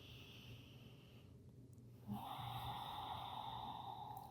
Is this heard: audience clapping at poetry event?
no